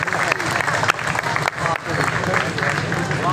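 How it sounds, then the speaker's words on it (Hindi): An audience at a book fair opening in Attock claps steadily and fairly loudly, a dense crowd applause that runs the whole time with a few sharper claps standing out. "भरपूर तालियां जी"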